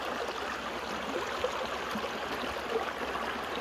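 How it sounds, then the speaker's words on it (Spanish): Small mountain stream running over rocks in a snowy western landscape, a soft continuous gurgling rush of water heard fairly close and quiet, with no voices. "¿Cómo se escucha que va corriendo el agua?"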